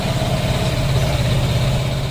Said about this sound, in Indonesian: Dan motor pun hidup ya teman-teman